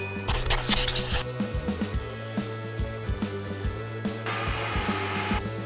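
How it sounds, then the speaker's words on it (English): Frets on a high-end electric guitar being crowned and polished during a custom setup, heard as a steady motorized whir with scratchy filing and rubbing strokes, a brighter burst of polishing noise near the end, with faint voices under it. "We finish the step with crowning and fret polishing."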